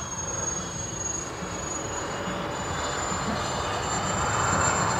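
A twin 70mm EDF RC A-10 Thunderbolt jet takes off, its ducted fans producing a steady, loud broadband roar with a high whine that holds throughout and swells slightly toward the end.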